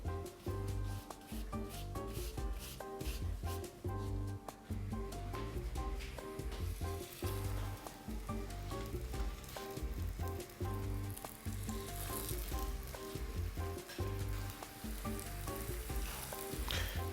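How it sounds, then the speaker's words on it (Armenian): Meat patties sizzle and fry steadily in a hot pan, a continuous close crackle running throughout over background music, with no talk. "Երկու կողմից կտապակենք"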